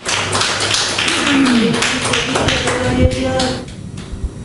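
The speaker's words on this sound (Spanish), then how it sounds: "Denle un aplauso al Señor fuerte." A church congregation at a Spanish-language Bible teaching session applauds, with loud, fairly sparse claps and taps rising and falling over several seconds and then thinning out.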